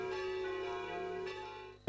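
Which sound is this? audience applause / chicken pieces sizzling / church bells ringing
church bells ringing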